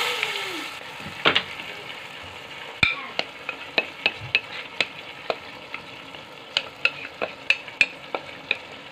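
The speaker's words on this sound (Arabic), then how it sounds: "غادي نضيف عليه الطماطيشه" Fresh tomatoes go into cooked camel meat in a pot, with a soft steady sizzle and repeated scraping stirs of a utensil against the pot, close and alone with no talk.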